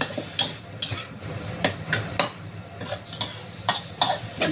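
Minced pork and fresh holy basil stir-fried in a hot pan, with close, repeated scraping strokes of a spatula over a steady sizzle at a brisk, uneven rhythm.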